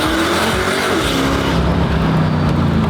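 A Koenigsegg Agera supercharged V8 supercar with an all carbon fiber body, its engine note loud, close and continuous for about three seconds, a steady roaring drone with a slight pitch shift partway through.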